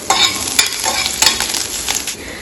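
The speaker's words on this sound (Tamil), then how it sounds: "ஒரு 10 இலை கருவேப்பிலை, சின்னதாக பொடியை நறுக்கி வச்சு ஒரே ஒரு க்ரீன் செடி இதை போட்டுக்கிறோம். நல்லா ஃப்ரையாக எடுக்கும்." Curry leaves and a chopped green chili sizzle in hot oil in a pan, a loud crackling fry punctuated by several sharp pops and stirring scrapes, with no talking.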